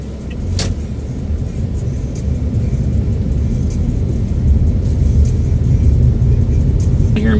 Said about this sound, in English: So I just go emergency brake off, down into drive, turn the wheel out to the left, no rush.